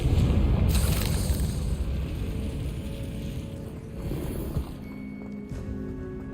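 A Confringo fire spell blast in the Hogwarts Legacy video game, opening with a heavy booming burst that rumbles and fades over several seconds, followed by softer thuds and a thin lingering tone.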